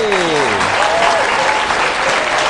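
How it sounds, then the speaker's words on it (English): Loud, steady applause from a crowd fills the whole stretch, with a voice briefly audible at the start over the clapping. "How about a big welcome and a round of applause for David Selby?"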